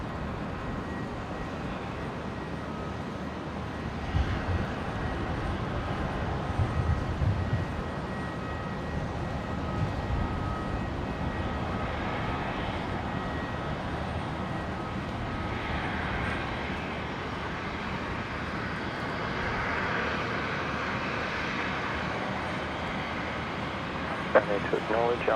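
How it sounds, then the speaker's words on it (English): An Airlink ATR turboprop landing on runway 19 left at Brisbane in a crosswind, a long steady engine and propeller drone building gradually, accompanied by people talking and radio chatter throughout. "ATR of Airlink just about to make a touchdown on 19 left"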